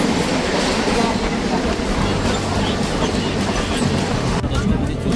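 A local train on the Howrah to Digha line runs steadily near Ramnagar, giving a continuous loud rumble and rattle of the carriages throughout, with a low drone shifting partway through.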